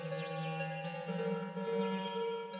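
Synthrotek VERB Eurorack modulated reverb module washes a sustained synth tone in a heavy, cathedral-like reverb, with sweeping pitch glides and shimmering echoes layered over steady droning harmonics.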